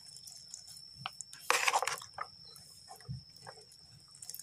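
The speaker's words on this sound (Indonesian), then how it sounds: "ini kalau kurang basah kita siram dengan air ini ya air biasa aja" Plain water splashes and drips onto longan seedlings in soil-filled polybags: a short burst of pouring, then scattered close drips and trickles, fairly quiet, with no talking.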